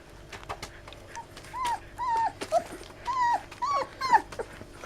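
Young puppies whimpering and yelping in a series of short high cries, with a few low growls mixed in, close by and fairly loud against a quiet background.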